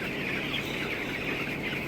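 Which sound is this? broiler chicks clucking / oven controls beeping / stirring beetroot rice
broiler chicks clucking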